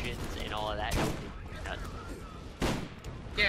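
A shotgun fires in a shooter video game, two loud sharp blasts about 1.7 seconds apart plus a third starting at the very end, between stretches of a person talking.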